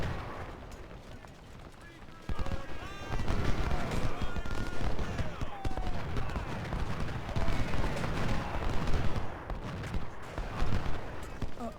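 Bursts of massed musket and artillery fire from the strategy game Ultimate General: Civil War, at the Thoroughfare Gap battle. The volleys crackle in dense, overlapping rolls, quieter at first and then sustained and heavy for most of the stretch.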